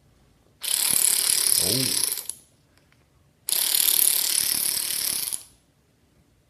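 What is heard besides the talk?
obsolete 1/4 inch cordless ratchet tightening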